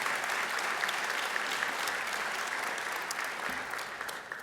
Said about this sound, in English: deserve a round of applause